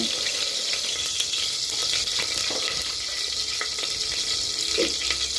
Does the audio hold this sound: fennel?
yes